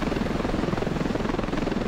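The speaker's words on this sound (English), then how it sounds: "All right, where's that helicopter? There it is." Helicopter flying in the video game Ravenfield Beta 6, a steady, loud rotor thrum with a continuous pulsing beat and no voices over it.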